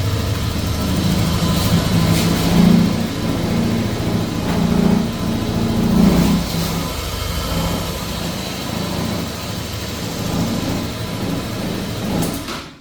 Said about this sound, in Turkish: Motorumuz çalıştı.